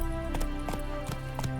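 A horse's hooves clip-clop in The Witcher 3: Hearts of Stone, four or five distinct, moderately close hoof strikes at an uneven trotting pace over a steady game backdrop.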